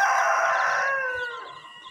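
A chicken call rings out on a farm, a loud crowing rooster-like cry that trails off and fades over a couple of seconds, with no voices.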